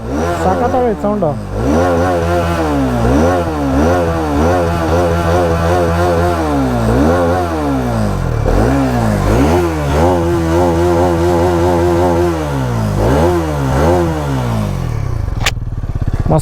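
Repeated throttle blips from a stationary motorcycle engine rise and fall in a steady pattern, the loud, close revs sometimes holding at a high pitch before easing back down.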